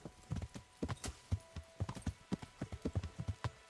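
Quick rhythmic clip-clop of horse hooves at a trot in the video game Kingdom Come: Deliverance, steady and fairly close, with a faint tone humming underneath.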